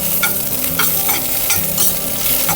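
Curry leaves and chopped green coriander sizzle loudly in hot oil for a Maharashtrian katachi amti, a steady crackling fry with stirring scrapes and bursts of spatter throughout.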